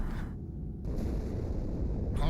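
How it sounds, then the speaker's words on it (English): An explosion rips through the interior of the ship Athens in Halo 2, a deep sustained rumbling roar that swells and holds over a constant low background drone. "Die Explosion kam aus dem Innern der Athen, genau wie bei der Malta."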